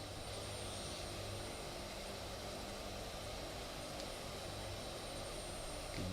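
An aircraft passes by in a flight simulator game, heard as a steady, broadband engine roar and rush that stays fairly constant throughout, with no talking.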